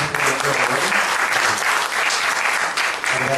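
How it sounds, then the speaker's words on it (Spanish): An audience at a seminar on disaster risk and resilience applauds, filling the room with dense, sustained clapping from many people at an even loudness throughout. "Bien, pido dar un aplauso a los presentes."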